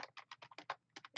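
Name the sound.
computer keyboard typing text in Canva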